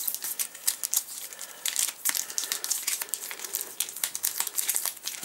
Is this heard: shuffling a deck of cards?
yes